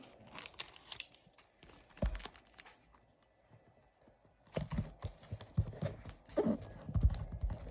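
Paper surprise packets from a Milka Boom collection being torn and unwrapped by hand, close crinkling and ripping in two bursts separated by a quieter pause.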